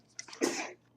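A single close sneeze with a short inhaled buildup and a sharp, breathy burst.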